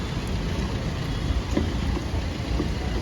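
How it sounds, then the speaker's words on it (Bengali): Torrential downpour roaring steadily and loudly, a dense continuous wash of rain with no pauses and a few sharper drips or knocks rising out of it. "মুষলধারায় বৃষ্টি পড়ছে"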